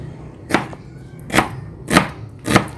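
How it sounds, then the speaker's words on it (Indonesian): A knife chops onions and seasonings on a board for German currywurst, four sharp, evenly spaced cuts ringing out close and clear over a quiet kitchen background. "Kemudian kita mau memotong bumbu-bumbunya nih Mas Bro. Bawang bombay,"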